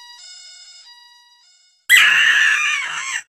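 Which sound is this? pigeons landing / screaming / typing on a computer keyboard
screaming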